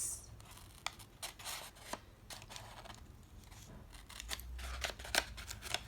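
Scissors snip through brown paper in a quiet room, a series of short crisp cuts spaced irregularly, close and soft, with no talking.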